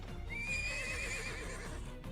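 A horse whinnies once in the game Twisted Wonderland, a clear high rising neigh over faint hoof clip-clops and soft background noise.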